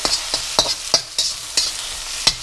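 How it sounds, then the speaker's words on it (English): Tamarind sauce for pad thai is stirred in a pan with a spoon, giving about seven sharp, evenly spaced scraping strokes close up over a soft background sizzle. "you just give that a bit of a stir"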